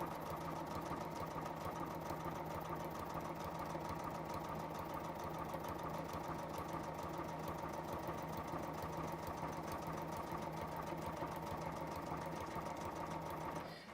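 Sewing machine stitching along a scored line in fabric, a fast, even mechanical whir and needle patter running continuously at moderate volume for the whole stretch before stopping at the end.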